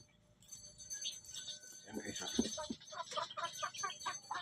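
Native chickens being fed corn cluck in a busy cluster and flap their wings, starting quiet and then growing into steady overlapping calls nearby.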